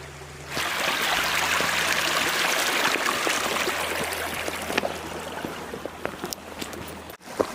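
River water flows steadily beside a level riverside campsite on the Pennine Way, a broad continuous rush close by, with no talk over it.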